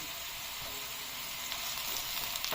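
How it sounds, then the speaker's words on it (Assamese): Two bay leaves frying in hot oil with browned onions in a pan, a steady, close crackling sizzle that holds evenly throughout with a few sharper pops near the end and no talk. "তেজপাত দুটা অলপ ভাজি লম।"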